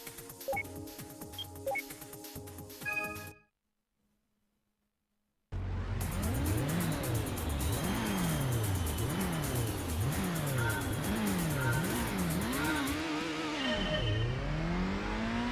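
Race cars in Gran Turismo on PS1 rev up and accelerate off the start line, engine notes climbing and dropping through repeated gear shifts after a brief silence, loud and continuous.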